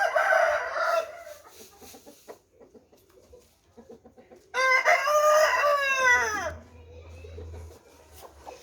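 A hen clucks and cackles close by in bursts, with rising squawky calls in the middle and soft farmyard noises between.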